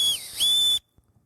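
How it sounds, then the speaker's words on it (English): A single sharp, shrill whistle blast, wavering briefly in pitch before cutting off abruptly, followed by near silence. "So you could blow a whistle"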